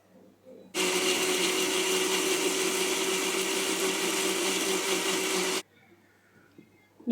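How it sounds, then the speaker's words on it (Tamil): A mixer grinder blending aloe vera gel and onion, loud and steady motor whir for about five seconds, starting and cutting off abruptly, with faint handling noises before and after. "நம்ம அடுத்ததாக எடுத்து வச்சுருக்க இந்த வெங்காயத்தையும் இதில் நீங்கள் சேர்த்து நல்லா அரைச்சி"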